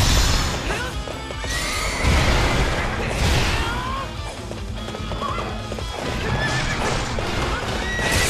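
Horse neighing and whinnying with clip-clopping hooves in the video game Hyrule Warriors, loud and dense amid game music and crashing effects, with a speaking voice.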